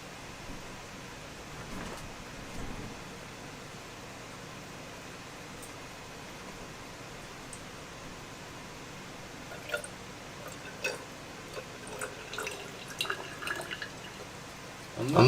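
Water is poured from a beaker into a flask while making up a chemistry solution, a faint quiet trickle with scattered drips and small splashes that grow busier in the last few seconds.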